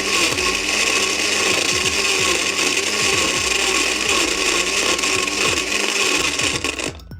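IDEALIFE IL 220 super blender running at speed 1: a loud, continuous motor whir and roar with a rapid rhythmic churning underneath, cutting off near the end.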